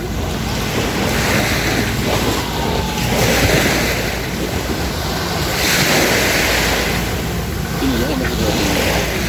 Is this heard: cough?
no